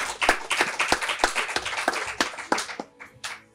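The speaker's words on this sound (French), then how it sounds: "Je veux qu'on applaudisse" An audience claps and applauds at an entrepreneur academy business event, honoring a manager: a dense, fairly loud burst of many hands clapping that thins into a few scattered final claps, with no talk.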